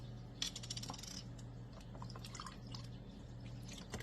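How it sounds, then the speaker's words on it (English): Chicken broth is poured from a cup into a bowl in a kitchen, making faint liquid trickles and small dripping splashes with a few light clinks, quiet and close, with no voices. "I'm going to go ahead and add another cup of the chicken broth"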